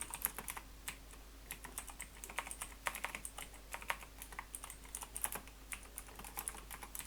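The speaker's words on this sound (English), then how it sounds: "I will just type item info dot model path" Computer keyboard typing, quick irregular key clicks in short bursts with brief pauses, close and fairly quiet, no voices.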